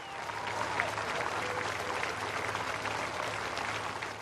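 Crowds outside a house give a sustained standing ovation as a funeral cortege pauses, dense steady clapping that holds at a fairly loud, even level throughout with no distinct voices.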